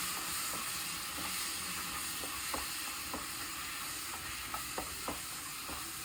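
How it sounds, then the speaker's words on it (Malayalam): Spices, half a spoon of chili powder and a quarter teaspoon of turmeric, being stirred into cooked beef in a pan: a steady frying sizzle with repeated soft scraping strokes of the spoon, moderately near, no talking. "മിക്സ് ചെയ്യുക."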